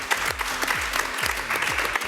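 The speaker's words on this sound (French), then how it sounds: "et ça s'applaudit." A small gathering at a New Year 2016 event breaks into brisk, close applause, with a voice murmuring underneath the continuous clapping.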